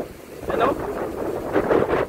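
Steady typhoon wind roars across the microphone in gusty, rushing surges, loud and close, with a faint watery wash underneath, in Sarangani Province, Philippines.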